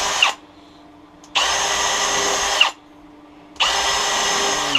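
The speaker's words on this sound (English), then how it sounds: "So I'm just pilot drilling each one of these 9/32 bit." A power drill pilot-drills screw holes with a 9/32 bit while assembling a beehive, whirring in two bursts of about a second each, separated by short pauses, close and loud.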